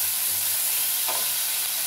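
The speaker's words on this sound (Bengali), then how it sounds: "পেঁয়াজ ভাজা হয়ে গেলে এখানে আদা, রসুন এবং কাঁচা লঙ্কার পেস্ট 1 চামচের মতন এখানে দিয়ে দিলাম।" Ginger, garlic and green chili paste sizzling in hot oil with fried onions, a loud continuous frying hiss close up, steady for a couple of seconds with a faint stir in the middle.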